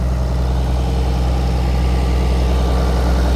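Farmall 826 tractor engine idling close by, a deep, steady, rumbling drone that stays even throughout with no talk over it.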